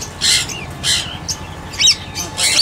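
Small conure parrots in an aviary let out a series of loud, harsh squawks, about six sharp shrieking calls in quick irregular succession, close by.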